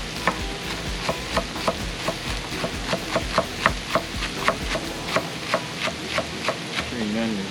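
Peppers hit bacon frying in a pot for baked beans, giving a steady sizzle broken by regular scraping stirs, about two per second, close and moderately loud.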